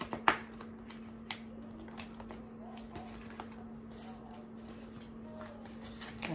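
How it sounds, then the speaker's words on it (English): Thick Witch's Tarot card deck being shuffled by hand, soft riffling and tapping cards, quiet and close over a low steady hum. "I don't like shuffling this deck"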